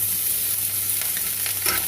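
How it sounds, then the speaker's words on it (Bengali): Finely chopped ginger and garlic frying lightly in hot oil for a mushroom dish, a steady, loud, close sizzle with faint scraping of a utensil. "তেল গরম হয়ে গেলে আমি দিয়ে দেব প্রথমে আমার জিঞ্জার গার্লিক"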